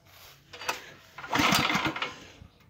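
Lifan 8 hp engine on a Neva MB-1 walk-behind tractor during a starting attempt: a short pull-start rattle and a brief sputtering burst of engine noise that fails to catch, heard outdoors at close range without speech.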